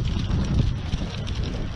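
Steady gusting wind buffets the microphone, a continuous low rumble with rough fluctuations and no voices.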